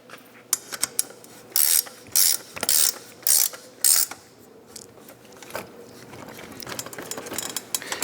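A PROSTORMER ratchet wrench tightens the loose nut on a child's bike training wheel, giving several short bursts of sharp metallic clicking with brief pauses and lighter ratcheting ticks between them, close and clear with no talking.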